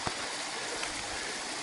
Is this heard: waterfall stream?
yes